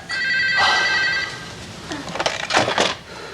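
A telephone rings in a 1988 Korean TV crime drama, a shrill electronic ring burst followed by a clatter as the receiver is picked up, close and clear.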